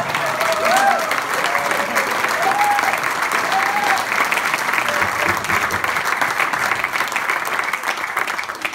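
A concert crowd keeps up loud, sustained applause through the whole stretch, thick and continuous, while a few voices call out faintly above the clapping.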